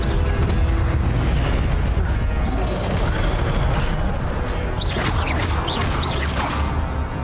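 Incendio fire spell blasts in Hogwarts Legacy, loud rumbling booms and whooshing bursts, followed by swirling higher swishes of spell effects amid continuous battle noise.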